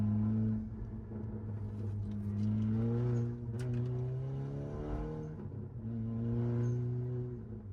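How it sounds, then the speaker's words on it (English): Engine hum of a VW/Audi car on Fapo coilovers heard from inside during a fast turn, a steady low drone whose pitch climbs then drops and rises again. "I'm gonna take a turn fast to see how it handles"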